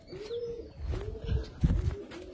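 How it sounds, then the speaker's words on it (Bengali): Teddy and KTM Pakistani cross-breed pigeons, including a white young bird, cooing softly with a few close flutters and wing-flap bursts as they are released, with no talk. "তো আমরা এখন এই কবুতরটা ছাড়বো, সাথে সাথে সাদা বাচ্চাটাও ছেড়ে দিব"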